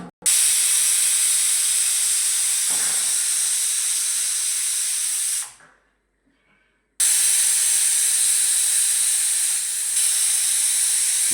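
A pressure cooker on the stove, cooking sweet potato curry, lets off a loud, steady hissing whistle of steam. It cuts off briefly into near silence, then a second long hiss starts up.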